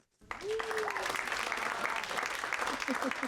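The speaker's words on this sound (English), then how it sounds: "Let's just give her a round of applause." Applause from an audience at a Black History Month fireside chat held in a law firm venue, a steady dense clapping that rises quickly and holds for several seconds without speech.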